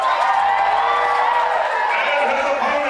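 A Hardywood pro wrestling crowd cheers and roars steadily, a dense wall of voices and whoops filling the venue for the whole stretch, loud and sustained without a break.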